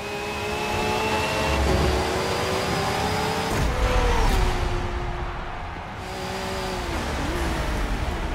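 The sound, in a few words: racing car engines from the video game Forza Motorsport 7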